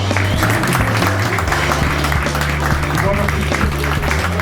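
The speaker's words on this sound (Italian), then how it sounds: "l'applauso più grande" Audience applause for a host at a beauty pageant in a café, steady clapping at close range, with amplified voices talking over the applause.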